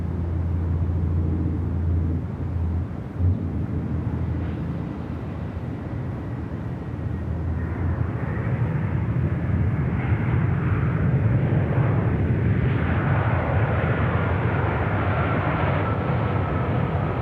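A Vietnam Airlines airliner arrives on runway 34 right at Sydney Airport, its engine roar building steadily into a broad, loud rumble over the whole stretch, with no talk heard.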